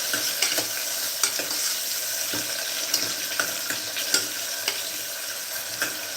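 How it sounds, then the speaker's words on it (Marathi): Curry leaves and tomato fry in oil for a Maharashtrian chana amti. A steady sizzle runs throughout, with scattered stirring clinks and scrapes, close and fairly loud, and no talking. "त्याचसोबत कढीपत्ता तेलामध्ये फ्राय करायचं आहे"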